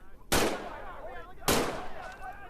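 Two sharp pistol shots in the Medal of Honor VR game on Oculus Quest, each a loud crack with a ringing tail, about a second apart, with faint game voice between.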